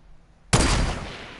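A single sniper rifle shot in the video game Fortnite cracks out sharply with a sudden loud onset, then a broad, sustained echoing tail that fades slowly over the next second.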